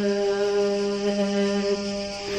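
A ferry horn sounds in a steady, sustained harmonic blast that holds for over two seconds before easing slightly, loud and close, with no talk.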